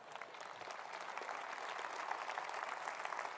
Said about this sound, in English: That applause for these great men.